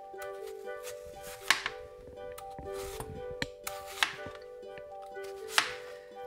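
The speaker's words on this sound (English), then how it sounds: "Next is peeling the apple and cutting it." An apple is peeled and cut, heard as scattered knife taps and rasping strokes on a board, with several sharp cuts standing out over a faint steady tone, close and without talk.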